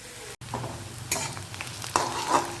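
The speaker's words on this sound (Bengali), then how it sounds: "তো পেঁয়াজটা ভাজা ভাজা হোক," Onions frying and being stirred in a pan while preparing dhaba-style egg tadka. A steady sizzle runs throughout, and scraping stirring strokes come in bursts. Nobody speaks.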